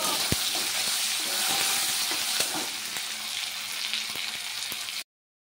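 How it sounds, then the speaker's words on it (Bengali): Tomatoes fry in mustard oil with salt and turmeric, giving a steady close sizzle with scattered crackles and a few sharp pops, interrupted by occasional clicks, with no talking. "সর্ষের তেলে নুন হলুদ দিয়ে টমেটোগুলো ভেজে অল্প একটু জিরে গুঁড়ো দিলাম"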